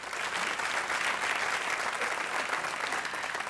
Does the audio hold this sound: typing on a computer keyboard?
no